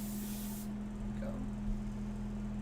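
Airbrush spraying paint for portrait work, a steady soft hiss that cuts off early, leaving a quieter background hum.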